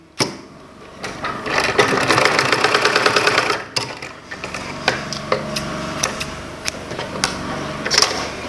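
An electric sewing machine stitches a folded shirt facing in a loud, rapid rhythmic burst, then runs in shorter, irregular runs with clicks between them.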